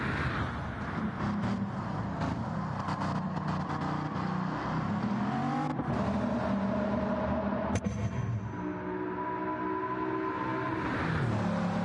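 A race car engine drones continuously at moderate distance, its pitch rising and shifting as it accelerates and changes gear along the track.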